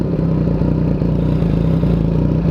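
A warmed-up Yamaha MT-09 motorcycle with an aftermarket exhaust idles loudly and steadily up close, its low, throbbing engine note pulsing evenly with no talking over it.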